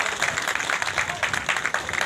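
An audience claps to welcome a Madhya Pradesh cabinet minister at a political rally, a brief burst of dense, moderately loud applause lasting about two seconds.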